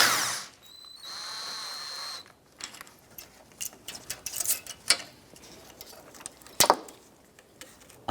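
A 13mm socket wrench removing a radiator nut on a 2005-2007 Ford Five Hundred, with a brief whirring power-tool run and then irregular ratcheting clicks and metallic taps, close up, with no talk.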